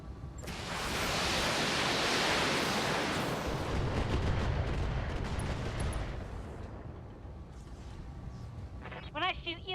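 Heavy mech weapons open fire on a Griffin in the Battletech strategy game, a loud sustained roar of blasts and rumbling impacts that swells and slowly fades, with a few sharp pops and beeps at the end.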